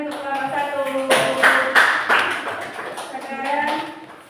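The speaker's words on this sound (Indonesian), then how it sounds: "Tepuk tangan untuk kelompok 1" Schoolchildren in an Indonesian classroom clap for group 1. Scattered claps and patters swell in the middle and then fade, while children's voices carry on over them.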